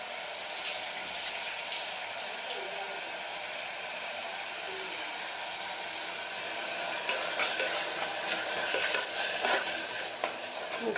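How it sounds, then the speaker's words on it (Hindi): Methi pulao, fenugreek rice cooked with ghee, is stirred in a hot pan, a continuous close sizzle with scraping stir strokes that grow busier toward the end. "और इसको अच्छे से चला लो।"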